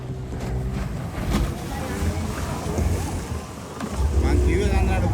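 Racing boats at the Wennappuwa Ulhitiyawa boat race in Sri Lanka churn the water with a rumbling engine hum and splashing waves, while nearby voices talk over the steady, surging noise.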